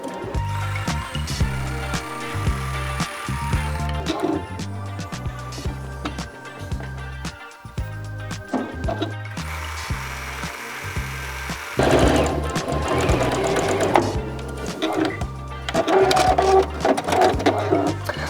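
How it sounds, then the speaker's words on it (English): Rag quilt pieces fed through a sewing machine one after another, a close, loud, rhythmic chugging of fast stitching in continuous runs with brief shifts in pace, no voice over it. "I've sewn 3 of these together using chain piecing"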